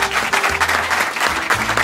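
Audience at a comedy show breaks into loud, dense applause, a steady wash of clapping that continues without a break and is heard alone.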